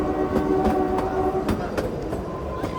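A Shimla to Kalka toy train running through forested hills, giving a steady, close rolling rumble with a faint whining tone and a few sharp clicks from the rails. No voices.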